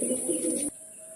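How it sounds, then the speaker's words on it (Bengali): A grizzle racing pigeon gives a short, close coo lasting well under a second, then the sound drops away to quiet background. "ফ্লাইয়ের কবুতর, গ্রিজেল কবুতর।"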